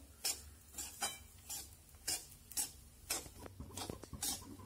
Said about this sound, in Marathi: रव्यामध्येच मी आता मनुका, बदामाचे काप आणि चारोळी पण घालून 2 मिनिटं परतते.